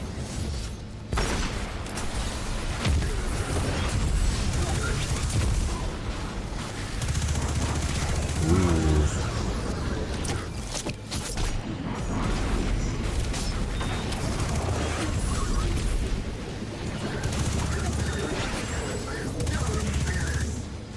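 Submachine gun fire in the shooter Destiny 2, sounding as dense, sustained bursts of rapid shots with heavy booms and mechanical clatter, continuous and loud for the full stretch against enemy combat noise.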